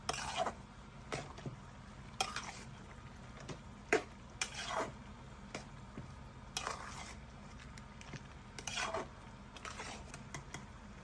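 Hilsa fish cooking in a pan, giving a faint, steady sizzle broken by scattered clinks and scrapes of a utensil at irregular moments.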